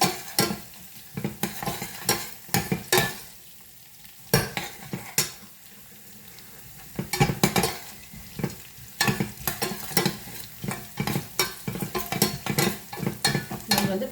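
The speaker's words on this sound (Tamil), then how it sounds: "மிளகு, சீரகம் எல்லாம் நல்லா பொரியணும்." Black pepper and cumin frying in a pan for ven pongal, with a spoon scraping the pan in quick irregular strokes over a constant soft sizzle, the strokes bunching into bursts with brief quieter gaps.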